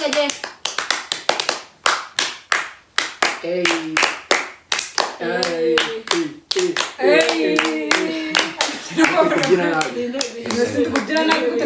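Rapid rhythmic clapping by a group of siblings during a dance in a party game, the claps quick and close at first and then continuing under loud singing and chanting voices.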